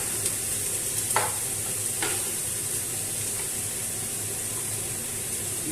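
Onions and bell pepper fry in a hot pan for a stuffed-cabbage dish with tomato sauce, giving a steady, close sizzle with a couple of brief stirring scrapes near the start.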